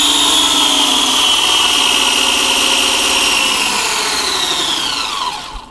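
Brushed electric motors of a 1:12 scale Haiboxing 12813 Survivor MT RC monster truck whine steadily at full throttle, a loud high-pitched electric drone that holds for several seconds, then drops and fades near the end.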